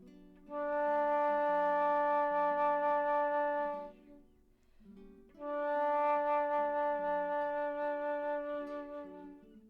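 Two sustained low D tones on a flute, each held about three to four seconds with a short gap between, steady and close, no voices.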